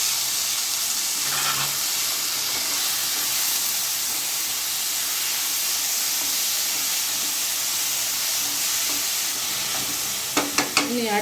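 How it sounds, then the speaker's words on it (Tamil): Tomatoes sauté with onions in a hot pan for a brinjal-tomato gotsu, a constant close sizzle and hiss with soft stirring, ending in a few sharp utensil clicks against the pan. "இனி இப்போ தக்காளி போடுறோம்"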